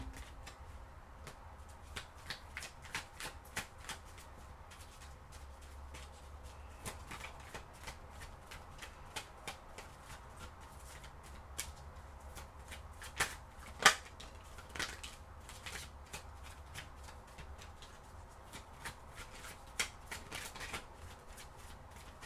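Tarot cards are shuffled quietly close by, with soft riffling and crisp card flicks in an irregular, low-level patter and occasional sharper snaps.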